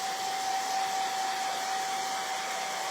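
A hair dryer drying crackle medium on a wood craft kit hums at a steady, even level throughout, with a constant whine and no pauses.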